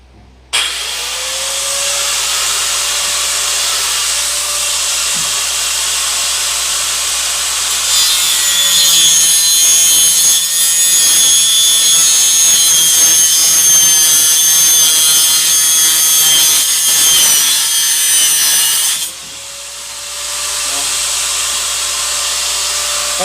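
A grinder cuts through a 10 cm pipe for a bathroom drain line, a steady close whine that grows harsher and louder mid-cut, then drops back as the blade eases off.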